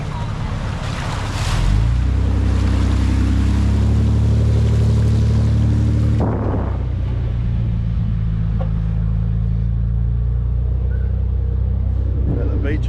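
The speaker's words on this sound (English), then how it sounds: "But look, we're going through the water." A vehicle drives through water on a beach-to-bush track in the Watagans, giving a loud continuous splashing rush over a deep engine drone. A louder surge of water comes early on, and a voice is heard briefly.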